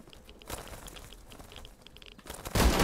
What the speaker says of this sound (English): I can hear gunfire over that way.